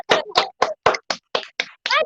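Several children clap their hands for a boy named Abolfazl, about nine separate, close claps in a steady, slightly uneven rhythm.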